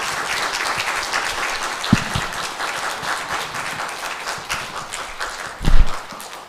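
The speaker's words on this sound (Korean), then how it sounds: "장로님께 감사하는 마음으로 박수하시기 바랍니다" Church congregation applauding an elder during an Easter Sunday morning service, sustained clapping from a large room with a couple of sharper knocks standing out, no speech.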